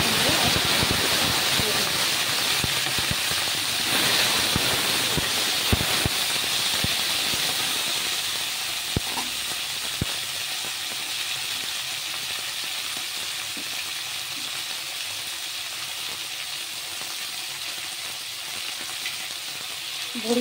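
Vegetables with green chili and asafoetida fry in a pan, giving a loud continuous sizzle and hiss, with occasional stirring scrapes and clinks early on and a softer steady sizzle later.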